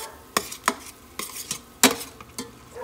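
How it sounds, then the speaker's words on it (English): Tomato paste being stirred into sofrito in a pan, heard as a few separate scraping strokes of a utensil against the pan, with quiet gaps between them. "I am going to throw in like 3 full teaspoons of tomato paste and mix it with the sofrito"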